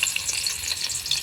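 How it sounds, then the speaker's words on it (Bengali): Crushed garlic hits hot oil in a short burst of bright, close, steady sizzling hiss. "প্রথমে রসুন থেতো করা দিয়ে দিচ্ছি"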